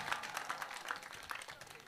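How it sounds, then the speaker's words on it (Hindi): A seated audience at a Jain religious discourse gives a short burst of applause for Kapil Bhaiya, soft and somewhat distant, with brief faint murmuring mixed in. "एक बार हमारे कपिल भैया के लिए तालियां बजा दीजिए"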